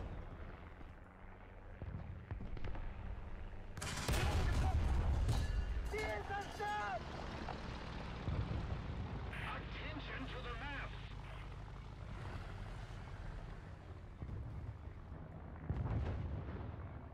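Tank cannon fire in War Thunder, from a German armored vehicle, lands as a loud blast about four seconds in, followed by rumbling engine and battle noise as players talk over it.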